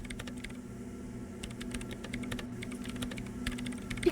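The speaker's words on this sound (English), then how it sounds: "her hands typing hundreds of commands into the machine" Rapid keyboard typing of commands into a machine in the video game Disco Elysium, a busy stream of clicking keystrokes with uneven bursts, close and fairly quiet.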